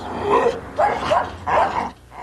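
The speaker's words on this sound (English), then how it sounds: "White suburbs have turned into fortresses with high walls and guard dogs." Guard dogs in a walled suburb bark in three rough, heavy bursts at a moderate distance over a low background hum.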